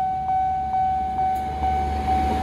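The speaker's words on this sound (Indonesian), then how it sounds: "Melintas juga kereta istimewanya ya teman-teman" A special charter train rumbles past a railway level crossing in Menteng, its low wheel noise steady under a level-crossing warning bell ringing in an even, repeating rhythm.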